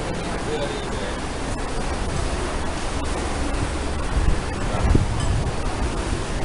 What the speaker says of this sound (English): The river's wild as ever.